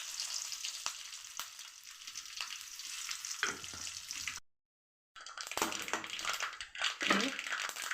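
Curry leaves hit hot oil with popping mustard seeds and sizzle loudly. A short silent break follows, then a second burst of frying crackle and stirring.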